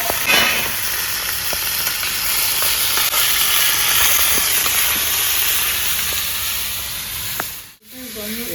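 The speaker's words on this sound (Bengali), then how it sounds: "ক্যাপসিকাম, কাঁচা লঙ্কা আর আদা একসঙ্গে দিয়ে দেবো।" Capsicum, green chili and ginger fry in ghee in a pan for chicken makhni, producing a loud, continuous close-up sizzle and hiss with a few faint stirring knocks, then cutting off abruptly near the end.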